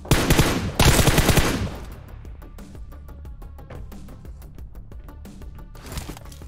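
Automatic gunfire in a shooter video game: a loud opening burst, a brief gap and a second long burst, followed by quieter rapid single shots and distant bursts trailing off.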